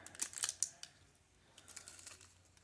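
Scissors snip open a small plastic packet of craft beads, a few sharp crisp clicks and crinkles close by in a quiet room, then faint rustling.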